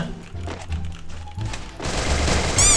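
Gunfire in a video game aimed at heads rattles in quick bursts, a clustered series of sharp shots building into a louder, denser volley near the end, close and unaccompanied by talk.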